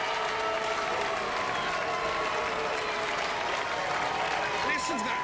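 Robot Wars arena crowd applauding, a dense, steady wash of clapping and crowd noise heard at a distance, with a commentator's voice faintly underneath.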